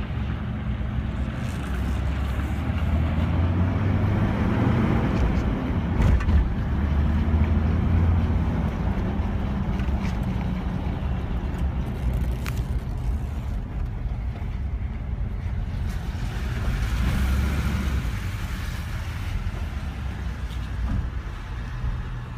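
A lifted 2004 Jeep Wrangler moves through nasty, wet weather, a steady low engine and road rumble with hissing spray and wind running continuously and fairly loud, with no one talking.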